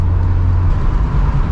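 A Mk2 VW Golf GTI Harlequin engine runs smoothly with a steady, loud low rumble, continuous and close, with no voices over it.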